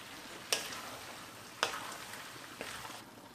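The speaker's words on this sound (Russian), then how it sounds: "Жарим так еще минут 10." A pan of hare with potatoes, tomatoes and red pepper fries with a steady, even hiss, broken by a few sharp clicks spaced about a second apart.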